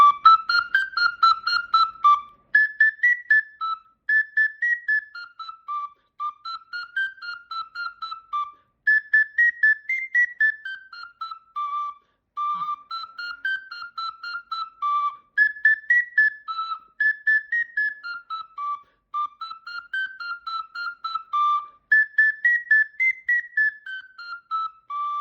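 A Sicilian friscaletto, a small folk flute, plays the tune La Messinese at a slow tempo, its clear, bright whistling notes moving in repeated stepwise phrases with short breaks between them, played solo with no voices.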